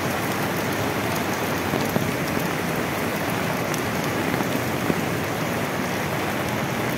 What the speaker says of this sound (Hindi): बारिश इतनी हद से ज़्यादा है।